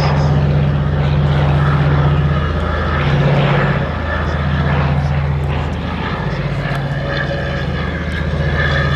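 Radial piston engines of a Consolidated PBY-5A Catalina flying boat during an air display at Duxford, a loud, steady propeller drone with a strong low hum running throughout, varying slightly in intensity as the aircraft passes.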